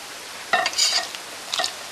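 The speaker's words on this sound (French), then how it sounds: "Et vous remuez petit à petit." Boiled milk poured into a mixture for pommes crème while it is stirred gradually, giving soft scraping and liquid swishing, with a few louder bursts of stirring in the middle and near the end.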